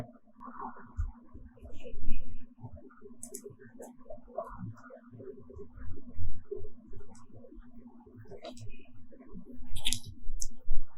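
Sharp computer mouse clicks and scattered taps ring out close by as a final submit button is pressed on an online registration form, over a steady low hum.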